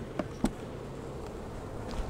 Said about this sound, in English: There's more bees over here